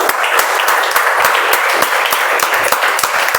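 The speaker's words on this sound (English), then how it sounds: "So let's a huge round of applause for the audience." A Toastmasters meeting audience bursts into sustained applause, dense overlapping claps holding steady and loud throughout with no break.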